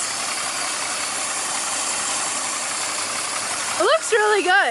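A C10 truck engine runs before a test drive with a steady, close rumble throughout. A voice speaks briefly near the end.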